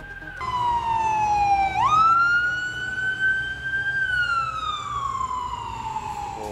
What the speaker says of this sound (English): Hold please, we got sirens.